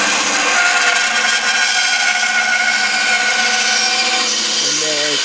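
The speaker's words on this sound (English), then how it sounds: "So turn the bandsaw on" Bandsaw running steadily through a wood bottle stopper blank, a loud continuous whine with sustained cutting noise up close.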